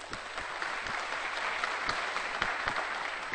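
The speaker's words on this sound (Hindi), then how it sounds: "आप अपने लिए तो तालियां बजाइए।" Audience applause during a spiritual reflection session, steady and dense clapping from a crowd indoors, sustained at an even level throughout with no speech over it.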